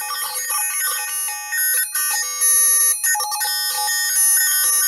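A homemade electronic white noise circuit with a vocoder, switching between tones as a finger is held near a resistor: a dense stack of bright, buzzing electronic tones that shift and jump in pitch, fairly loud and steady with no talking.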